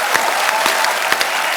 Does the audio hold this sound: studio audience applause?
yes